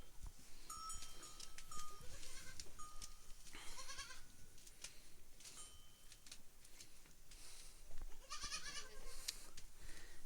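Young goat kids bleating again and again, some close and some farther off, against an outdoor farm background with a faint ticking or bell.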